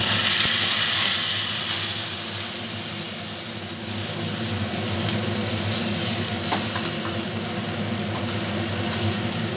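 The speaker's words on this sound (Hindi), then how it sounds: "और इसमें थोड़ा सा पानी डाल देते हैं।" Water poured into a hot pan of semolina and gram-flour dhokla mixture seasoned with sugar and a pinch of salt, giving a steady broadband hiss and splash that starts loud and eases slightly as it continues, with no talking.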